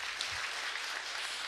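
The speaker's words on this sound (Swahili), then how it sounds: "Hebu tumpigeni makofi mwenzangu Dan" An audience claps at a patriotic community gathering in Kibra, a fairly quiet, steady wash of applause from a crowd some distance away.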